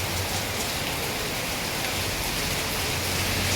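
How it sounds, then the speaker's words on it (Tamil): Heavy rain pours steadily in a dense, unbroken hiss on a rainy street in Nagercoil, loud and close with no pauses. "தெரியுதா கைஸ் எவ்வளோ மழை பெய்யுதுன்ட்டு?"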